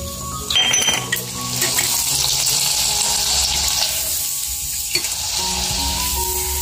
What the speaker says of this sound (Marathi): हे मी मनुका तळून घेते.